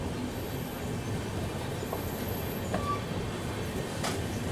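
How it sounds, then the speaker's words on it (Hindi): Shunting of the Ayodhya Express rake at an Indian railway yard: steady low rumble of railcars with faint metallic clicks and a brief wheel squeal, heard from a distance with no talk. "यहाँ अयोध्या एक्सप्रेस के रेट को शंट किया जा रहा है।"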